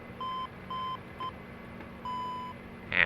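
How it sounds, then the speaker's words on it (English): The overspeed warning horn in a Q400 flight simulator game gives four clean, steady electronic beeps at an even mid pitch. The last one is held longer, and it sounds over a faint cockpit hum with no talk. "you can hear the overspeed warning horn going there as well"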